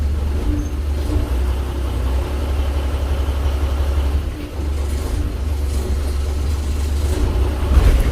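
A truck fitted with a Hino P09C engine idles steadily nearby, its low, even rumble holding throughout with no voices over it.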